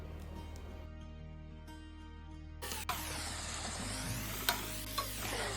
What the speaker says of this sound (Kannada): ಅದೇ ಒಗ್ಗರಣೆಗೆ ಒಂದು ಚಾಪ್ ಮಾಡಿರೋ ಈರುಳ್ಳಿ, 2 ಕಾಯಿ ಮೆಣಸು, ಅರ್ಧ ಟೊಮೆಟೊ ಹಾಕಿ ಬೇಯಿಸಿ